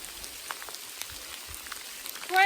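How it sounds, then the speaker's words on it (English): Hail falls outdoors on a spring day in British Columbia, making a steady patter of many small, crisp ticks on surfaces nearby. "Right, We got hail."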